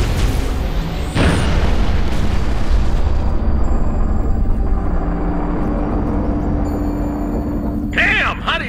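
Artillery final protective fire explodes in Halo Reach, a loud broad boom near the start followed by a sustained roaring rumble of battle noise, with dense sound throughout.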